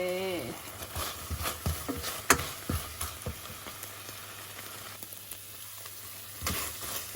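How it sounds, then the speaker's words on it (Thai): Pork being stir-fried with sadao (neem) leaves in a pan, a soft continuous sizzle broken by repeated scraping and clattering strokes of the spatula, close by, with brief speech at the start. "แล้วก็ใส่ตัว กระดาลงไปเลยเอาไปผัดต่อค่ะ ผัดกระดาวกับหมู"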